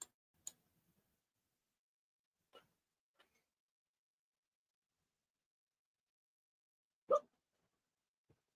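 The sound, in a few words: stifled hiccups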